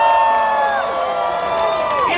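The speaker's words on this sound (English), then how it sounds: "If you like them, we want you to scream." A live drag show crowd at Wigstock 2.HO in 2018 screams and cheers loudly and continuously, a dense wall of whoops and shrieks with no talking over it.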